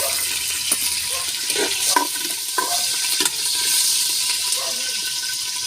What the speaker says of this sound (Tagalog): ay luto natin sa gisa lang natin. Luya. Bawang at saka sibuyas.